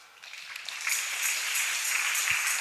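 An audience at a Sunday church gathering breaks into applause, the clapping swelling quickly from quiet to a dense, steady wash of many hands that holds to the end.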